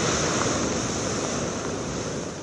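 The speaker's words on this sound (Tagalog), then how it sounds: "nangangalit at naglalakihan ang mga alon sa dagat sa Ilocos Sur" Big storm-driven sea waves off the coast of Ilocos Sur in the Philippines during heavy rain, heard as a loud, continuous roar of surf mixed with wind rush, with no voices.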